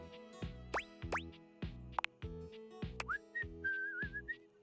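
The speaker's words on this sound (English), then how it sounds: "He's whistling when you walk up on him" A character in the video game Date Everything whistles a bright, wavering tune over a rhythmic backing of game music, with rising whistled slides followed by a sustained warbling phrase near and clear.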